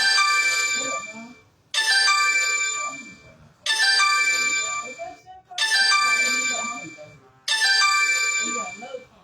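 A phone ringtone repeats five times in a regular pattern, each loud bright melodic burst about two seconds long and separated by short gaps.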